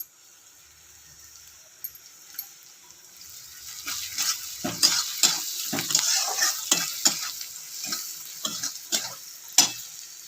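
Onions fry in oil with turmeric and chili powder while a spoon stirs the pan. Soft sizzling builds under a run of irregular scraping and tapping strokes.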